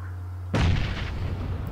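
A single heavy grenade blast in PUBG erupts suddenly after a low hum, a loud booming burst that decays into a rumbling tail over about a second.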